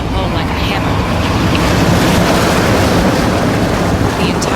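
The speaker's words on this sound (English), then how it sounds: "an enormous wave fell upon the ship" An enormous ocean wave, some 20 to 25 feet tall, crashes onto a ship's hull in a storm. A loud, sustained roar of churning water and wind fills the whole stretch.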